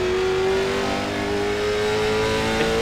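A CARS Tour Late Model Stock Car engine in iRacing holds a constant high-pitched whine throughout, smooth and loud, cruising at speed with no voices.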